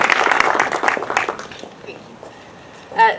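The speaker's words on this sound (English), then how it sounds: "Let's give them a round of applause" An audience applauding at a Monterey County 2020 Census launch event: a dense burst of clapping that fades out over about two seconds, followed by a short bright sound near the end.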